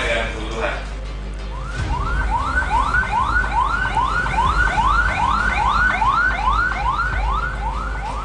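An ambulance siren wails in a fast, repeating rising sweep, loud and close, during an industrial emergency response drill at a chemical plant in Cilegon, Banten, with a brief voice at the start.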